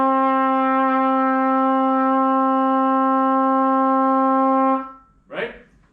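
A trumpet holds one steady, clear note with the first and third valves fully pressed, sustained for nearly five seconds and then cut off, followed by a short breathy burst; played alone.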